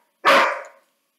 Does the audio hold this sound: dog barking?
yes